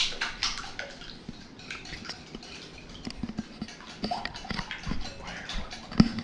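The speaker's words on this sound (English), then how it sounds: "just whisk it" Five eggs with salt and pepper being whisked in a bowl during a cooking class, a quiet irregular patter of light tapping and splashing strokes, close and soft, with no talk.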